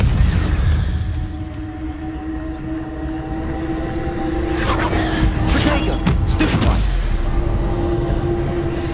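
A Confringo blasting spell from a video game erupts in a loud, deep boom with a rumbling, crackling blast that swells midway and lingers over a constant low drone.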